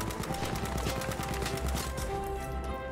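A Sten submachine gun in Battlefield V fires a rapid, evenly spaced stream of shots, close and loud, running through almost the whole stretch without speech.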